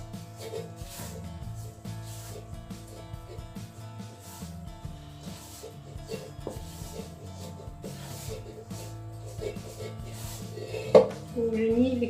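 Focaccia dough with olives being stirred by hand in a bowl, with a soft continuous scraping and rubbing of utensil against the bowl, steady and close, ending with a small clink.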